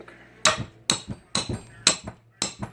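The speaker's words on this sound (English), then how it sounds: "Probably gonna have to whack on them with a hammer" A hammer strikes a rusted turbocharger part in six sharp, ringing metallic blows at a steady, uneven rhythm, close and loud, each followed by a brief rattle.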